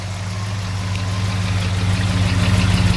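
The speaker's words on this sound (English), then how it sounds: "Motor seems to run nice and smooth though." A 1966 Mercury Monterey convertible with dual exhaust idling smoothly, a steady low throbbing engine rumble heard close and fairly loud throughout, with no talk.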